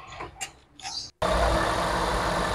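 A ninth-generation Toyota Corolla Altis under injector socket testing cranks briefly and catches, then settles into a steady, close engine idle that fills the rest of the clip.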